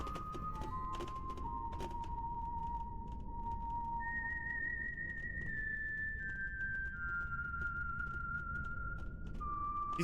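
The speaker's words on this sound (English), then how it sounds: "He's supposed to be whistling?" A character whistles a slow melody in the video game Trails Through Daybreak, sustained clear notes over a busy bed of game ambience with clattering effects.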